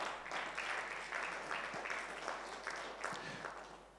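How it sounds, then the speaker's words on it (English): Delegates at an Africa-Israel parliamentary summit clap together in a soft, fairly distant round of applause over a low electrical hum. The clapping tapers off gradually toward the end. "Clap for Africa"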